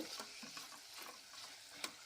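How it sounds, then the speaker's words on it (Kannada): Sliced cucumber with turmeric is stir-fried in a pan for a cucumber curd curry. Faint, close stirring scrapes of a spoon are heard over a low, steady sizzle. "1 ನಿಮಿಷ ಇದನ್ನು ಫ್ರೈ ಮಾಡ್ಕೊಳ್ಳೋಣ."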